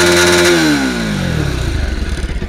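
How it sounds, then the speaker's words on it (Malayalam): A Bajaj NS200 motorcycle with over 33,000 km on it revs down from a high, droning engine and exhaust note to a lumpy, pulsing idle, close and loud with no talking. "പിന്നെ പറയുന്നത് എഞ്ചിൻ വോയിസും എക്സോസ് നോട്ടും നമുക്ക് നോക്കാം."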